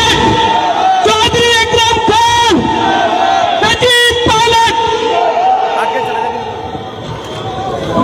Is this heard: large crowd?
yes